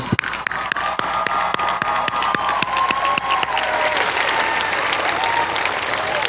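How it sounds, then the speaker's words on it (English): Audience at a graduation ceremony applauds steadily, with scattered loud claps and cheers over a continuous roar of clapping that builds slightly toward the end. "Now it is your time to cheer them for their support."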